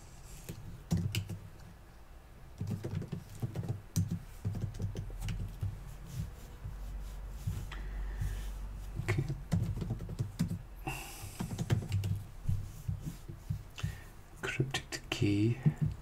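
A password is typed on a computer keyboard in uneven bursts of close, crisp key clicks, with someone talking over parts of it.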